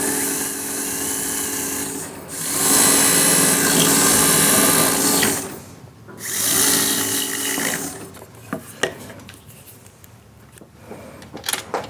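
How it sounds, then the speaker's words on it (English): Surgical implant drill whining steadily while preparing a maxilla site for a 4.0 by 18 implant, two sustained high-pitched runs with a brief pause between, then quieter clicks and handling noises. "is our first drill. Move to the second drill here next."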